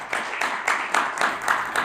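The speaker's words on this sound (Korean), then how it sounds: "여러분 박수로 맞이해 주십시오" Audience applause greeting a computer engineer speaker at an international election-integrity forum; steady, dense clapping from a hall crowd, with regular swells, lasting under two seconds with no talk.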